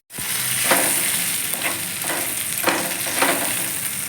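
Drumstick dry curry sizzles in a pan as it is stirred, a loud, close hiss with rhythmic scraping strokes coming about every half second, with no talking.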